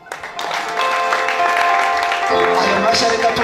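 Sustained applause in a church during a wedding ceremony, steady clapping from the congregation filling the space for a few seconds with voices mixed in.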